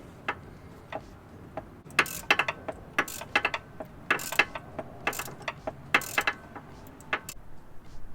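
A ratchet loosens hex bolts on a Ford Fiesta ST, giving close, irregular bursts of sharp clicking with short pauses between strokes.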